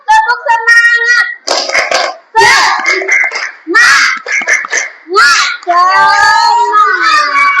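A class of children claps out a rhythmic cheer in a quick patterned beat, with their voices chanting along loudly throughout.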